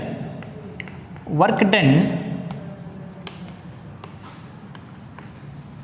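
Marker or chalk scratches across a board during a physics lecture on the potential energy of point charges, with faint scratching and tapping under a brief spoken phrase, then quiet strokes continuing in a steady room hum.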